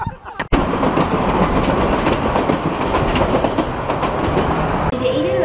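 A subway train rides the rails with a loud, steady rumble and faint clickety-clack that continues the whole time.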